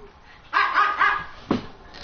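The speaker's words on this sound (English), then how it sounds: "Sorry for the dogs barking." Dogs barking close by indoors, a quick run of three loud barks followed by a single sharper bark after a short pause.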